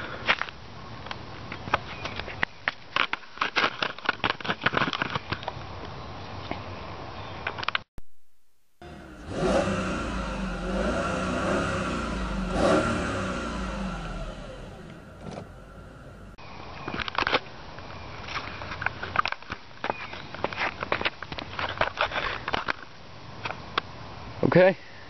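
A 2003 Mercedes SL500 V8 engine revs in a short burst of throaty rises and falls, with someone talking before and after it.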